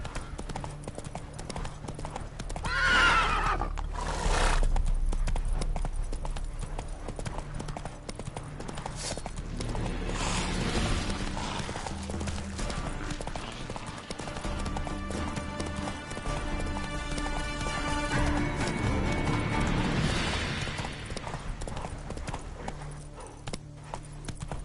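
The horse Roach gallops with fast, steady clip-clop hoofbeats and neighs loudly a couple of times, the sound holding close and continuous throughout.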